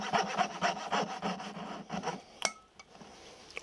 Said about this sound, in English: don't ever touch your coping saw blade after you do this. It gets hot as can be.